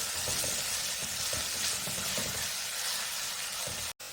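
Sambar ingredients with turmeric and salt frying in oil until light golden, giving a loud, steady sizzle with faint stirring scrapes throughout and a brief dropout near the end, and no voices.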